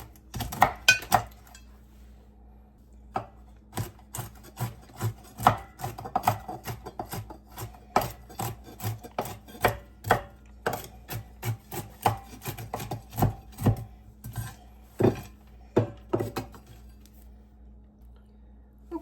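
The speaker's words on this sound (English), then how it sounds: "I don't have any, so I'm going to just chop these myself so that I can have the almonds in this recipe" Almonds chopped by hand with a knife on a board, a long run of crisp, irregular blade knocks, close and clear, with scraping rubs between strokes.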